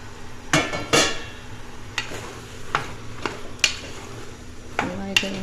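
A spoon stirs brinjal and capsicum in a pan, sharp scraping knocks at an uneven pace over a faint sizzle, nearby and fairly loud, no talk.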